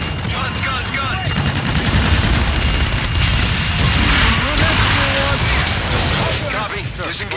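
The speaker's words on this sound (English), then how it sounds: "Inbound for gun run. Guns, guns, guns!" Rapid aircraft gun-run fire in Call of Duty: Infinite Warfare, a loud sustained barrage of bursts and booms lasting throughout, with radio voices and battle chatter mixed underneath.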